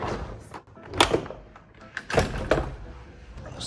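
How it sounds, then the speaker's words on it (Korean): A door opened at home to let a pet in: a few dull clunks and a soft thunk of the latch and panel, fairly close, with quiet room noise around them. "일단 빨리 문 열어줄게요"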